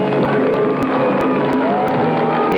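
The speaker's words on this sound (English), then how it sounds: "The excited crowd of onlookers, parents, brothers, sisters, friends, cheered the assembled group." A crowd of onlookers at a youth sports fair, parents, siblings and friends, cheers steadily, a dense continuous roar of voices with no single voice standing out throughout.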